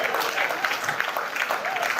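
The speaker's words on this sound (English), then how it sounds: "Shall we clap for Gio?" Audience applause at a Christian marriage and family cruise event, a steady, dense patter of many hands clapping throughout, with some voices mixed in.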